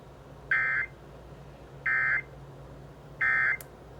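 Three identical loud electronic EAS emergency alert test tones sound alone at an even spacing, each lasting about a third of a second, over a faint steady background hum.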